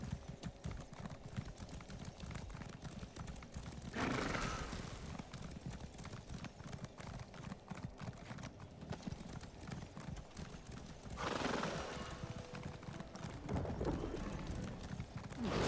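Rhythmic hoofbeats of a horse in the video game The Elder Scrolls Online clip-clop steadily at a moderate distance, with a couple of brief louder bursts, and no talking.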